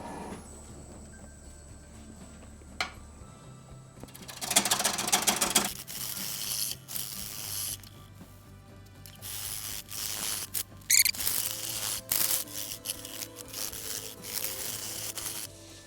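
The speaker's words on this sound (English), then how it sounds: "I'm gonna finish taking wood off the side here." A wood lathe tool cuts into the side of a spinning silver maple platter, giving bursts of loud rough scraping and tearing over a steady low motor hum, with quieter gaps between passes.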